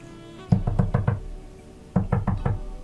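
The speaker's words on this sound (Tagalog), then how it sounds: "Kaya kinantok ko ang pinto." Knocking on a wooden door as a radio drama sound effect: two quick bursts of four close, loud raps each, separated by a brief pause.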